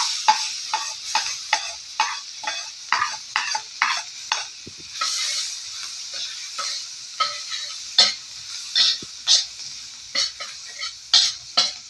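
Garlic frying and being stirred in a pan, with repeated scraping strokes of a utensil over a steady bright sizzle, close and fairly loud, and no voices.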